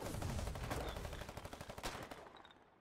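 Rapid bursts of gunfire from Foxhole, a World War battle game, crackle over a dense mix of distant shots and rumble, with a faster run of sharp shots near the middle before the firing thins out.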